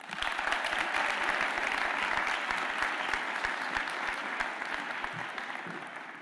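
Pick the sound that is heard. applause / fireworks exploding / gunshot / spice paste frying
applause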